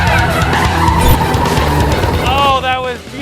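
A Lexus IS 350 F Sport brakes hard into a corner on a track, with engine roar and a rising tire squeal close by under excited talk from inside the car.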